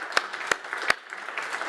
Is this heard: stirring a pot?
no